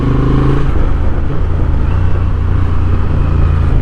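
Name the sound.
2026 Honda Transalp motorcycle riding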